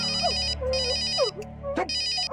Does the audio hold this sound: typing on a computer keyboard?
no